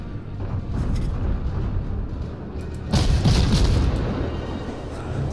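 Naval guns fire in World of Warships, a deep rumbling boom that swells out of a steady low roar, with a stronger blast about midway through.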